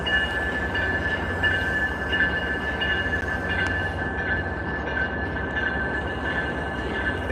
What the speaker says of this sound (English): A 7-car train.